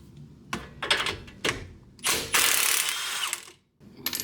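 A hand ratchet working a bolt loose on an Audi RS3 suspension during CV axle removal, close, with short clicking pulls and then a longer steady run of rapid ratcheting before a brief pause and another quick burst.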